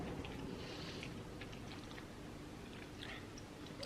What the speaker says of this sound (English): Give it a little taste.